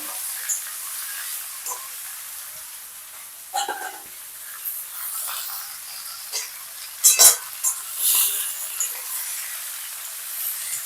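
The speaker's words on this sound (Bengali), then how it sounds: "এবার মাংসটাকে আমি ভালো করে কষিয়ে নেব।" Marinated mutton for Champaran-style curry fries in a pan with a steady soft sizzle, punctuated by several louder spoon scrapes and clinks as it is stirred nearby.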